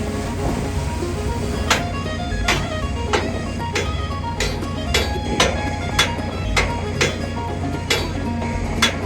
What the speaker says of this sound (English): you probably want a rubber mallet just to move it on there